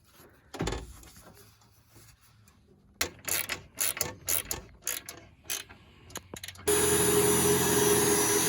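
Radiator hose clamps on a BMW E36 are tightened, with close mechanical clicks and ratcheting rattles in quick bursts, followed by a sudden steady whirring hum near the end.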